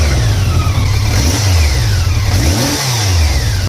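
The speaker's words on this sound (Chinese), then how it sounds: "也给大家听一下这个卧式4缸跑车声音" A BMW K-series sport motorcycle with a horizontal inline-four engine (987cc, four valves per cylinder) revs loudly and steadily, its pitch rising and falling through several throttle blips before cutting off abruptly at the end.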